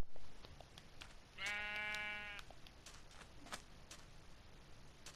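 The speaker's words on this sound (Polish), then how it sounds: "Owca." A sheep in the Minecraft video game gives one clear, wavering bleat lasting about a second, fairly quiet against a faint background with scattered soft ticks.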